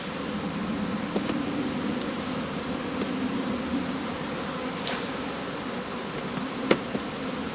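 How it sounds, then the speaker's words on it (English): A steady dense buzzing of many honey bees in a hive fills the air close by, with faint clicks and knocks now and then. "I would have thought there's a lot of bees in there now."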